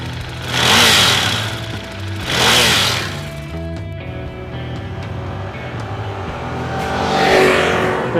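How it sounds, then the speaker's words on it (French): A 2014 Ducati Diavel Carbon's 1198 cc twin-cylinder engine revs hard through its twin exhaust, two loud rising-and-falling surges followed by a steady idle, then a third swell building near the end. "Le moteur reste d'une force incontestable accompagné par la sonorité magique du double échappement."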